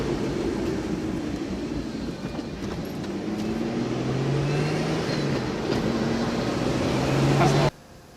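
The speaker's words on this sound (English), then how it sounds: "I know the S4 is quiet because like I was saying before, it has a stock exhaust" Audi B5 S4 with a stock exhaust driving on the road: a steady, fairly quiet engine drone with rising tones as it accelerates, plus road and wind noise, cutting off abruptly at the end.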